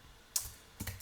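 Computer keyboard keys tap twice in a quiet room, two brief, faint clicks about half a second apart.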